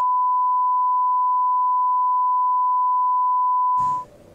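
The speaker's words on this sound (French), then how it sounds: "J'ai pas les droits pour cette musique, donc il y aura juste un bip." A single continuous censor beep, a pure steady tone lasting about four seconds that replaces copyrighted music, then cutting off into faint background sound.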